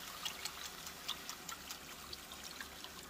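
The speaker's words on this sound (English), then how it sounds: "I'm going to go ahead and get this sauce poured in the meat" Sauce is poured into a pan of beef for Mongolian beef, giving a faint, close trickle with small splashy ticks and light sizzling patter, no voices.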